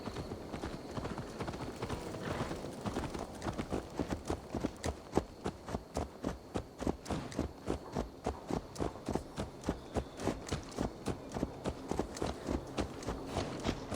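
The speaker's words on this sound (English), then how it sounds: "Let's return the horse" Hooves of a horse clip-clopping in Assassin's Creed Valhalla, a steady, evenly paced rhythm of distinct hoof strikes that continues without break, close and clear above a low background.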